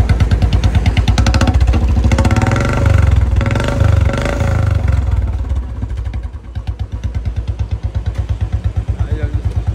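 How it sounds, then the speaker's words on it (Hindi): A motorcycle engine runs loud and close with rough, rapid pulsing, revving up before settling into a steady chugging idle, while people talk over it. "आर्यन किक मारतोय आर्यन."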